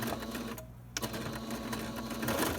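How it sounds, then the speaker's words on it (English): Sewing machine running a short simple stitch across a fabric face mask, its rapid mechanical whir heard close up and steady apart from a short pause and a click partway through. "this is just a simple stitch to keep this in place and make it look a little bit more flat"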